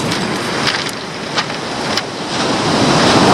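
Ocean waves break at Big Bald Rock Cove, a loud, continuous wash of surf with wind buffeting the microphone and a few sharper crashes rising out of the roar.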